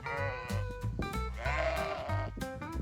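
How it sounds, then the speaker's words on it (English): Sheep bleating insistently near a parking lot, several loud, close, drawn-out calls following one another in quick succession with no talk over them. "Very insistent sheep, making absolutely sure we wouldn't forget them."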